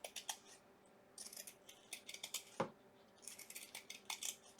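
Scissors trim burlap on a handmade heart bouquet, giving a quiet series of short crisp snips and rustles, close by and spaced irregularly, with one sharper click partway through.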